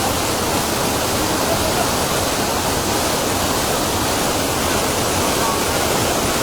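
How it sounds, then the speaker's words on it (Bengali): Floodwater draining away sends a loud, continuous rushing roar like a waterfall, unbroken and close. "পানিগুলো নেমে যাচ্ছে।"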